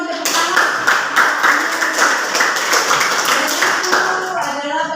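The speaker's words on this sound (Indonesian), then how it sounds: "Tepuk tangan" A classroom of students claps together, close and loud, with a steady flurry of hand claps and some voices mixed in, continuing for several seconds.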